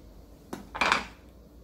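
A knife cuts into a very hard bottle gourd in two short knocks followed by a harsher scraping crunch. The sound is brief and close, and no one speaks.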